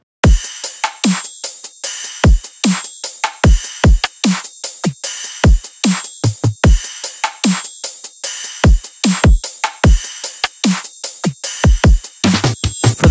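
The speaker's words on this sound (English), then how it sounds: "Altogether, your drums should sound like this." A melodic dubstep drum loop built from samples: punchy kicks and snares layered with rides and hats in a steady, syncopated pattern, loud and alone without any voice.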